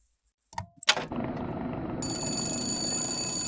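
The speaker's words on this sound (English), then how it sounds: "Let's answer the phone." A telephone rings in the game Bioshock Infinite: a few faint clicks, then a steady, bright, bell-like ring that starts partway through and sustains at a moderate level over a low background hum, with no talking.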